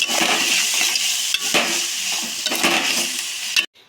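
A raw banana fry is stirred in a pan, with a spoon scraping and turning the pieces against the sizzling surface in several distinct strokes over a continuous frying hiss, close and fairly loud.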